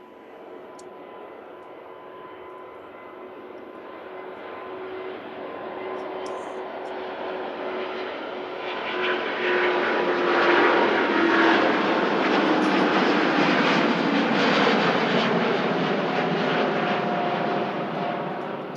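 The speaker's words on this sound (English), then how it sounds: "Singapore Airbus A350 was a 900. That's the smaller of the two versions that are offered by Airbus." Singapore Airlines Airbus A350-900 jet on the runway at Manchester Airport, a steady broad engine roar that swells louder partway through as the aircraft builds power, heard from a distance with no talk.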